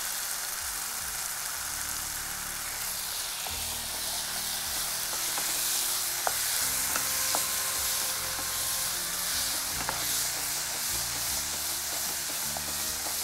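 Spice powders sautéing in a pan give off a continuous soft sizzle and hiss, with occasional light stirring clicks and no voices.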